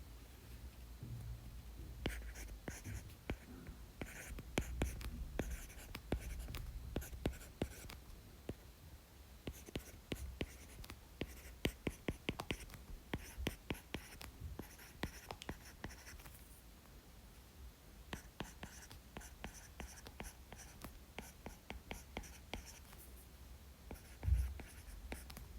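Pen or pencil writing by hand on paper during an English vocabulary lesson, a steady run of scratchy strokes and taps with brief pauses, close and fairly quiet, with no talk over it.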